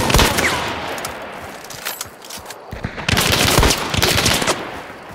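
Sustained bursts of fully automatic gunfire in a game, loud and close, with a brief lull near the middle before the fire picks up heavily again.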